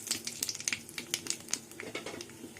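Nigella seeds tempering in hot oil in a pan for a spicy Bengali tengra fish curry, giving a close, crackly sizzle with scattered sharp pops over a steady frying hiss.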